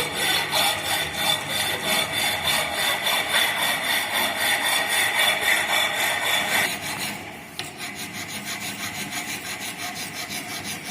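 Metal file drag filing a workpiece held in a vise, a steady rasping scrape in fast, even repeated strokes, close and loud, softening slightly after a brief pause partway through.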